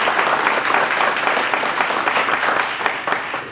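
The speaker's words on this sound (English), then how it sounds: "Let's give him a round of applause." Loud, dense applause from an indoor crowd at a school cafeteria grand opening and ribbon cutting, a steady, even roar of many hands clapping throughout with no break.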